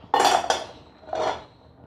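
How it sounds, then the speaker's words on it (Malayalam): A metal lid is set over a pot of hot and spicy chicken curry, giving two quick close clinks followed by a softer metallic clatter, with no talking. "ഇതേപോലത്തെ ഒരു മൂടി എടുത്തിട്ട് ഇതിൻ്റെ പുറത്തേക്ക് മൂടുക, മറ്റേ മൂടി മാറ്റി വയ്ക്കുക."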